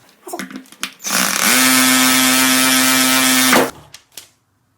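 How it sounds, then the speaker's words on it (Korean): A power drill bores into a Brita water filter cartridge, spinning up into a loud, steady whirring drone that holds for about two and a half seconds before stopping abruptly, with brief handling clatter before and after. "뚫을 거예요."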